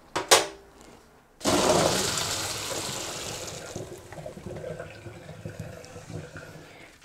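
Boiled rowan berries poured into a strainer to drain, a sudden rushing splash of hot water that settles into a steadier trickling pour, close and fairly loud.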